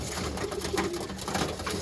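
Young Birmingham Roller pigeons coo softly in a loft, low throaty burbling calls repeating in a loose rhythm close by, with light rustling between them.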